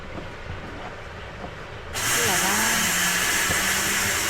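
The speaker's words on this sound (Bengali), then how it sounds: "দেখো পকোড়া ভাজা হচ্ছে" Pakoras frying in oil in a busy food shop kitchen, a loud, steady broadband sizzle that bursts in about two seconds in and continues without pause over faint background noise.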